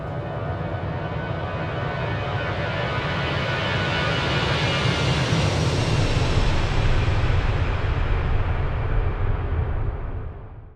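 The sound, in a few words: Airbus A320 flight deck engine noise, flight simulator video game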